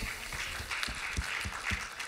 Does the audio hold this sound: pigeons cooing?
no